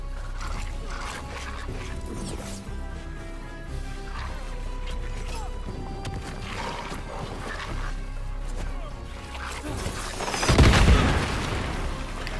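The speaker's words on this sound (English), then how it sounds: "I'm just exploding myself real quick." A heavy explosion bursts in Dragon Age: The Veilguard, a loud booming blast late in a busy stretch of combat noise, crashes and game ambience.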